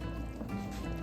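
A kitchen strainer is rinsed under running water while cooking ground beef goulash, giving a steady close wash of splashing and trickling liquid that runs through the whole short moment.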